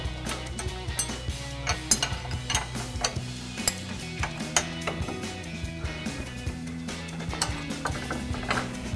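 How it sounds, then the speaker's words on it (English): Wrenches work a nut loose from a ball joint stud on a RAM 1500 front suspension, one 15/16 wrench turning while a 12mm wrench holds the center, giving steady close metallic ratcheting clicks with sharp ticks throughout. "we're gonna grab a 15/16 wrench and a 12mm wrench just to hold the center and spin that off"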